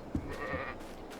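A sheep bleats once briefly in a pen in the Farming Simulator 22 video game, set in Western Australia, a short, fairly faint call over quiet game ambience.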